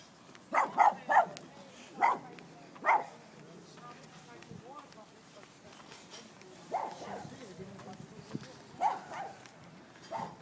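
Several sharp, small-dog yaps come in quick bursts near the start, then a few more later, over background chatter and movement, outdoors beside the Rhine in Koblenz, Germany.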